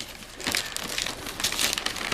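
A baby tears and crinkles wrapping paper off a Christmas present, producing soft, irregular rustling and ripping bursts at close range with no talk over it.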